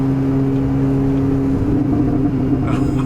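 A rusty Mini Cooper S engine runs nearby with a steady, throaty drone whose pitch shifts slightly midway, heard on its own without voices.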